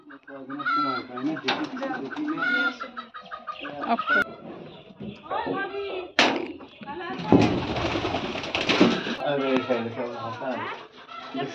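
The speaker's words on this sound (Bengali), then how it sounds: "ওই বাসায় আমরা একটা কবুতরের ঘরে ঢুকতেছি" Pigeons coo and warble inside a pigeon house, their calls repeated close by while people talk over them.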